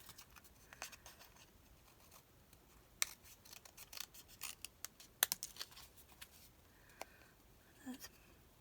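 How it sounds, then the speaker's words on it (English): Scissors give a few sharp snips as the top is cut off a craft piece, isolated close clicks and crisp cuts scattered over quiet background with light handling rustle between them. "I'm going to just snip this right off the top"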